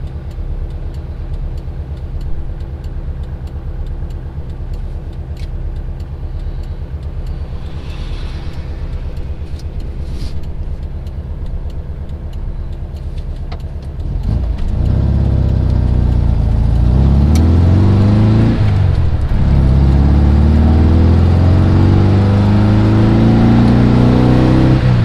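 An air-cooled Volkswagen with an EMPI Hurst-style shifter drives along, its engine humming steadily, then growing louder and revving up around the midpoint as it accelerates, with rising engine pitch sweeps through gear changes.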